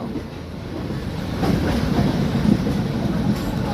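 A locomotive hauls a long train of carriages past a locomotive repair depot. Steady close rumble with rhythmic clickety-clack of wheels over rail joints and some wind buffeting, no speech.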